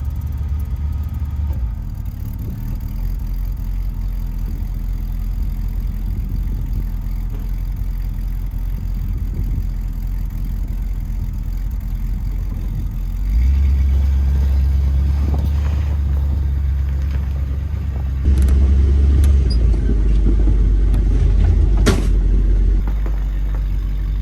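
A campervan engine runs after being shifted into drive while stuck in a snowbank, a steady close rumble that deepens and grows louder as it revs partway through, with no talk.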